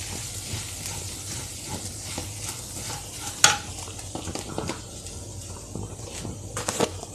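Garlic flakes sizzle and fry in a pan with turmeric powder for a ladyfinger masala, a steady soft crackling hiss punctuated by spoon scrapes and metallic clinks against the pan, close by with no talking.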